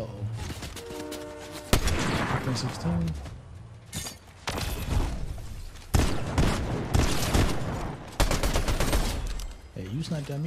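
Rifle shots boom out in a Fortnite Zero Build solo match, several sharp cracks spaced a couple of seconds apart over dense in-game action and effects, with a player talking at times.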